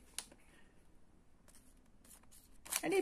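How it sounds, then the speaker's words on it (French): A LEGO Harry Potter minifigure blind bag being torn open: a sharp crinkle near the start, quiet handling rustles through the middle, then a louder burst of plastic crackling at the end, close and with no talk. "je vais demander à mon assistant de commencer par ouvrir le premier sachet"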